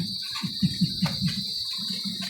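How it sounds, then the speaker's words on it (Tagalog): Crickets chirp at dusk in a rural sitio, a steady high insect trill running throughout with rhythmic low pulsing beneath, moderately loud and close. "At tumutunog na nga po ang kuliglig."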